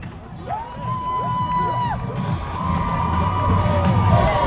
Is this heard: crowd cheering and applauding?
yes